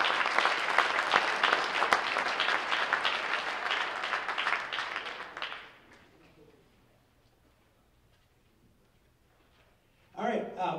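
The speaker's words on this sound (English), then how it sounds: "Didn't they sound great? Let's give them a round of applause." A high school winter band concert audience claps loudly and steadily for about five seconds, then the applause fades to near silence before a voice starts speaking near the end.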